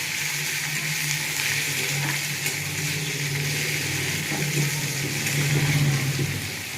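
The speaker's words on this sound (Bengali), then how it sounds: "পেঁয়াজটা একটু ভাজা ভাজা করে নেবো হালকা।" Continuous soft sizzling of onions frying in oil, steady and fairly quiet, with faint occasional scraping underneath.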